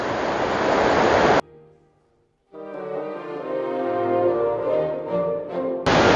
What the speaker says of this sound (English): Chittenango Creek leading up to Chittenango Falls.